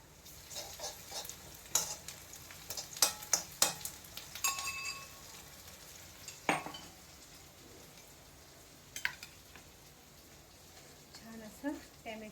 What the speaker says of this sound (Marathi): आपण त्याच्यात अला लसूण पेस्ट आणि मिरचीचा ठेचा घालूया